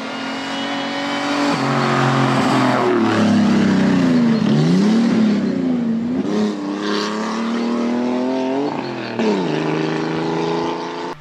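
A 1936 race car with its original six-cylinder 1081cc engine, freshly rebuilt, roars loudly and close at a hillclimb, revving and shifting pitch through the gears as it accelerates away, steady and sustained throughout.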